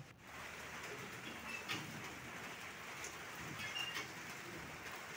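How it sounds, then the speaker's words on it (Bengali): Rain falling on a farmstead after a long heatwave, a faint, even hiss of steady rainfall with a few soft drop taps, heard from a distance and with no one speaking. "দেখেন আল্লাহর রহমতের বৃষ্টি হচ্ছে, দীর্ঘ তাপপ্রবাহের পর আজকের আল্লাহর রহমতের বৃষ্টি।"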